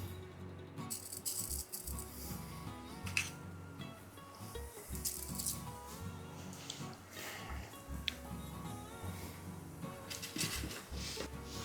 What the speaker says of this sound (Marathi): त्यात घालूया जिरे मोहरीची फोडणी